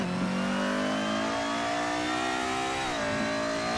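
An Audi A4 RS WTCC 2007 race car in Assetto Corsa revs steadily, its engine note holding a high harmonic whine before dipping briefly near the end, loud and continuous with no voices.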